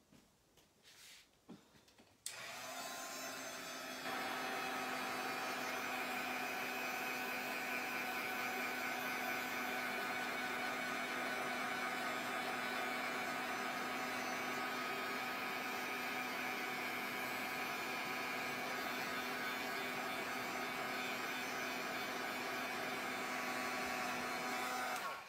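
Hair dryer or heat tool drying crackle paint on a mixed media craft piece, a steady loud whir with a constant tonal hum that starts after a brief clatter and runs unbroken for the rest of the time.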